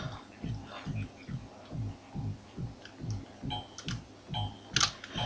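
Computer keyboard arrow keys tapped in a steady, rapid rhythm during play of World's Hardest Game, dull muffled clicks close by with a few sharper clicks near the end and no talk.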